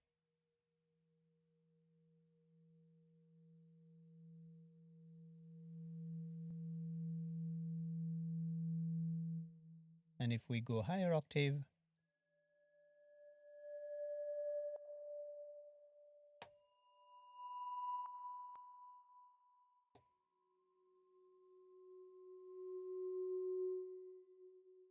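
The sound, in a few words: PS Khagan mallet reverse synth sound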